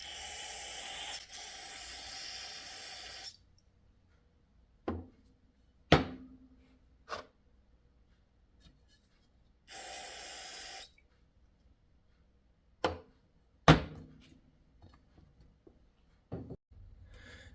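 Two bursts of hissing aerosol cleaner sprayed on a KTM 65 SX carburetor, each lasting a few seconds, separated by quiet stretches with scattered knocks and clicks of handling parts.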